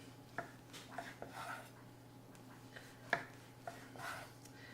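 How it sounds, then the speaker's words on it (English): Knife cutting slits into a loaf of bread, a few sparse, soft scraping strokes and light taps spaced irregularly over a quiet room hum. "So get your knife. We're just gonna do nice slits with this bread."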